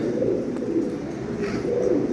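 Pigeons coo softly and repeatedly over a steady, dense background hum, with no voices.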